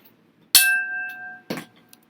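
A single bright strike on a crystal bowl rings with a clear sustained tone, followed by a second softer knock; close and quiet otherwise.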